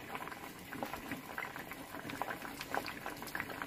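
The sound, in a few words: lentils and beans boiling in a pot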